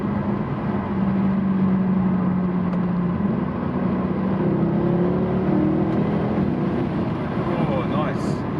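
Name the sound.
Mercedes C63 car accelerating in fourth gear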